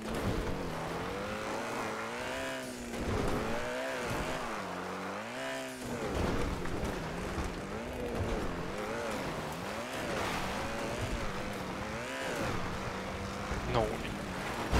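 A car engine in GTA 5 drones and revs continuously, pitch rising and falling with gear changes, loud and close throughout.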